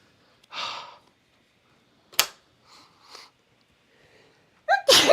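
A single sharp sneeze bursts out close by, preceded by breathy intakes and soft sighs in an otherwise quiet room, then followed by a loud breathy exhale.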